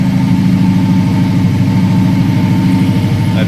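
A 1972 Oldsmobile Cutlass with an LS engine runs at a cold-start high idle, a loud, even, close rumble holding steady throughout with no voices.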